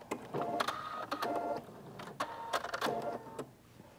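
Sewing machine stitching a seam on a sundress and backstitching, several short bursts of whirring motor with brief pauses between, close and fairly quiet with no talking.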